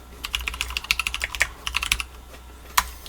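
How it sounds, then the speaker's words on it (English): Keys clatter on a TX75 mechanical keyboard fitted with Ergo Clear Cherry switches, close and alone, in quick irregular bursts of sharp keystrokes with a brief pause before a final firm tap. "the typing sound is very solid. It's a very solid keyboard."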